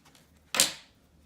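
Scissors make a single crisp snip through sewing thread after a tail knot is tied. The cut is short, quiet and close, with nothing else around it.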